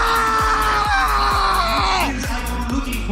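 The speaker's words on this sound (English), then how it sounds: "Could we get a new scream now?" A person screams continuously and loudly during a scream challenge at a League of Legends esports event, over a thick, sustained crowd roar with repeated low thumping hits.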